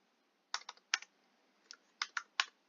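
Quiet keystrokes on a computer keyboard come in two short bursts of a few clicks each, with a brief pause between them. No one speaks.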